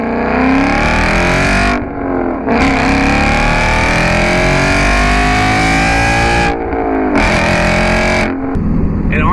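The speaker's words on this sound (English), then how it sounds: "an Armytrix exhaust that sounds brutal." A 2011 Audi S5 with a V8 engine, manual transmission and an Armytrix exhaust revs hard and close. Loud, rising engine howls are split by brief gaps, and a blast of crackle follows at the end.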